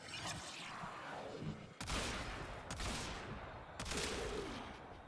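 Kit gun fire in the Warframe video game: several sharp, loud shots in quick succession, each a broadband crack with a decaying tail, over steady game ambience.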